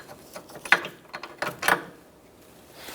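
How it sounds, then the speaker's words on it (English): A ratchet fitted with a 17mm socket works a bolt loose on the rear wheel hub of a 2002–2006 Honda CR-V, giving a few sharp metallic clicks and two louder clacks at close range, then quiet. "Using a 17mm socket, we're going to take out this bolt."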